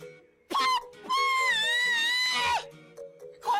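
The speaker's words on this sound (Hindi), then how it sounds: "कौन चीख रहा है?" A woman's drawn-out, high wailing scream in a Hindi drama scene, close and loud, one short cry then a long sustained one, followed by a brief further outburst.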